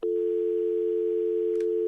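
A steady telephone dial tone hums on a phone line, loud and unbroken throughout, with a faint click near the end.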